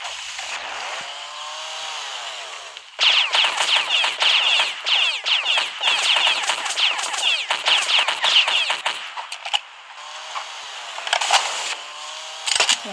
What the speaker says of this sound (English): What's she shooting at?